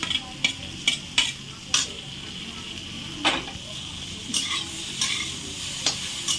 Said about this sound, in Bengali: চিংড়ি মাছটা এর সাথে ভেজে নেবো